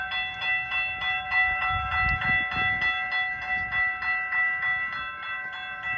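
Norfolk Southern freight train approaching at a crossing in Wyandotte, heard as a steady layered tonal hum with low rumbling that swells slightly near the middle, moderately loud and with no talking.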